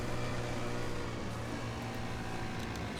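A boat engine in the DayZ video game runs as a steady, fairly quiet droning hum with a low rumble, unbroken throughout and with no talking over it.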